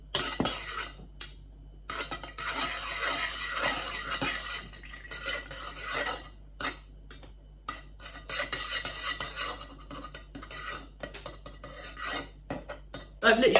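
Fragrance oil stirred into a mixture in a kitchen, with a utensil scraping and clinking steadily against the container in close, continuous strokes broken by brief pauses.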